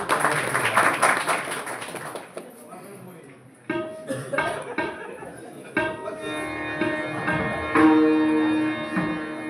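An audience at a Marathi folk performance bursting into vigorous applause, a dense wash of clapping at first that gives way to scattered claps, music and voices.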